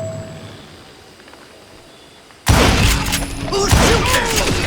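Gunfire erupts abruptly in the Call of Juarez: Gunslinger video game at a camp outside Parachute, Colorado, a loud burst of shots and impacts after a quiet stretch, continuing densely to the end.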